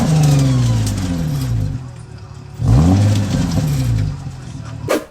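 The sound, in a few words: Infiniti G35 engine revving with serpentine belt shredding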